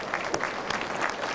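Applause from a crowd at a 1992 Christmas event in Columbus, Ohio, a short, steady wash of distant clapping with a few sharper claps standing out.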